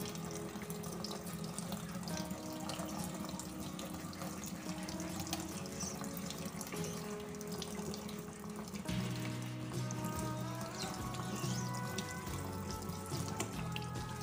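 Clean tap water runs steadily as a car's rubber wiper blade is rinsed, a continuous close splashing flow into a sink that carries on alone for the whole stretch.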